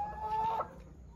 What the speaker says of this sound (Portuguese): Olha, gente, que galinha bonita.